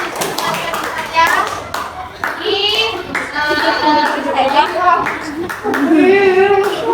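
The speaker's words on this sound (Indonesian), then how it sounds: "Tepuk tangan untuk kelompok jarum." Schoolchildren in a classroom clap in quick bursts while high young voices chatter and shout all around, with an adult talking over the noise.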